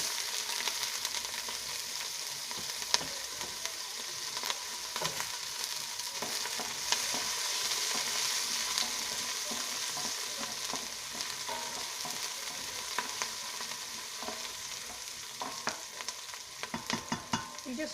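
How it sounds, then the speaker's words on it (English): Onions frying on medium-low heat for lamb pilau rice, a soft continuous sizzle with scattered scraping clicks as a spoon stirs the pan, fairly quiet and with no one talking. "now I'm going to do my onions"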